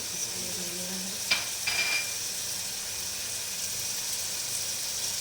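Ground biryani masala hits a hot frying pan and sizzles, a soft steady hiss that goes on throughout. There are a couple of brief stirring scrapes near the start.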